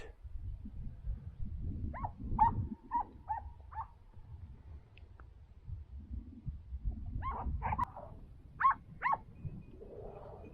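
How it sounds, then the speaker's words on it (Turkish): Hunting dogs work a hare's trail in snow, giving repeated yelping barks and whimpers, some in quick clusters, at moderate distance over steady outdoor noise. "Bakın köpekler buraya geldi."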